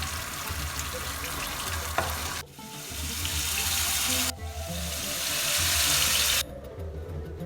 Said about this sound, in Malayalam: ഇനി നമുക്ക് അടുത്ത ബാച്ചും കൂടെ ഇതുപോലെ ഫ്രൈ ചെയ്തെടുക്കാം